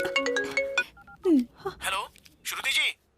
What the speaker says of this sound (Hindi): उसका फोन आ रहा है।